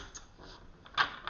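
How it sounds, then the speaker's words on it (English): Rider-Waite tarot deck being shuffled by hand, soft papery riffles and flicks in short irregular bursts, with one louder slap near the end, fairly close and quiet. "I'm shuffling the Rider-Waite deck"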